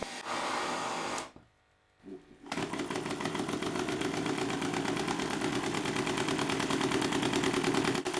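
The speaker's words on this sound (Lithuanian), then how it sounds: "Dabar, kai variklis sukasi 588 apsisukimų per minutę greičiu, palyginti su ankstesniais 326 apsisukimais per minutę" Small Stirling engine built to power a bicycle, running at 588 rpm: a fast, even mechanical chatter that steadies after a brief pause, heard close and alone.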